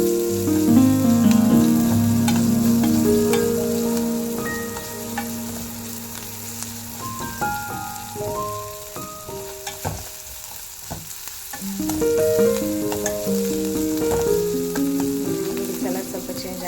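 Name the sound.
onions frying in a pan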